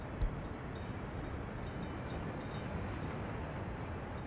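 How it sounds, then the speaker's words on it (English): A freight train departs in the Workers and Resources city-building game, giving a steady rolling rumble and rail noise at an even level, with a sharp click near the start and no talking. "Off you go, little train, to go get my stuff from the border."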